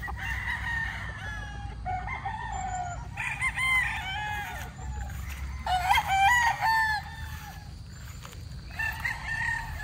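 Straight comb gamefowl roosters crowing repeatedly at a muddy yard, several loud, near crows overlapping with clucking between them.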